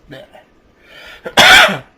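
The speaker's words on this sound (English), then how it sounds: "I'm coughing." A person coughs: a soft throat sound, then a loud, harsh cough burst near the microphone.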